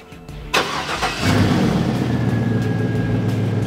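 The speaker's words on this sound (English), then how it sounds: "Go ahead and start the vehicle." A car engine starts during a fuel pump voltage drop test: a brief crank, a catch, then the engine settles into a steady, close idle that continues alone.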